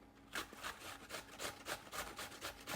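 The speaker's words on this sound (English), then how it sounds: "As it grates, it gets to be a pretty good volume of squash to be ready to do hash browns with." Butternut squash is grated on a box grater in a steady series of about a dozen rasping, scraping strokes, close and fairly quiet.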